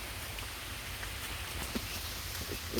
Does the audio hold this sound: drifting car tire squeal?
no